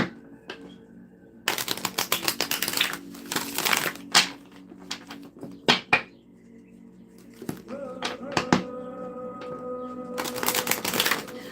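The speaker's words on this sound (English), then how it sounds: "I'm going to give you some good shuffles" Tarot cards are shuffled in quick riffling bursts and sharp snaps, pausing briefly between rounds before the fluttering starts again.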